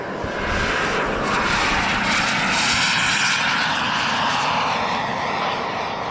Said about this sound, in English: Turbine.